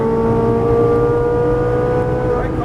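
A Ferrari 458 Italia accelerating around the Las Vegas Motor Speedway circuit, its engine holding a loud, steady high-pitched note close by for the whole stretch, with an instructor's voice audible over it.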